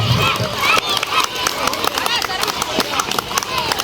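Spectators at Don Bosco High School's annual sports day clap for students stepping up, their scattered handclaps mixed into loud, busy crowd noise with voices and outdoor bustle throughout.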